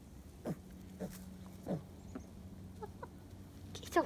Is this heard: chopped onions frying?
no